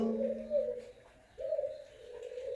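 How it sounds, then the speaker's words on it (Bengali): Farm pigeons coo in two clear, close phrases separated by a short pause, sounding alone against a quiet background. "সুস্থ পাখি তারা উড়াউড়ি করবে এবং সঠিকভাবে খাবার খাবে"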